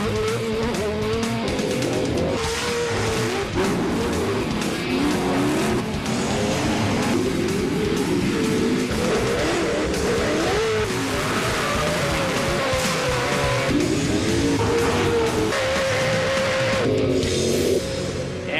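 Off-road race trucks in the Pro Light class at Bark River in 2009 roar through a loud, continuous stretch of engines revving and tires working, a dense unbroken din from start to finish with no voices.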